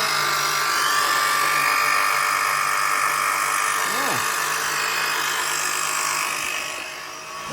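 A Plumia oil extraction pump runs steadily, drawing engine oil up through a car's dipstick tube, a continuous loud whirring hum throughout with brief faint voice traces near the end.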